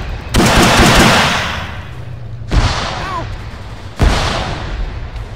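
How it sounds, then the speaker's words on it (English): Loud gunfire from Arma 3 combat, with three sharp, close blasts about two seconds apart, each trailing into a long rumbling echo. "Shoot him as soon as he comes up, shoot him."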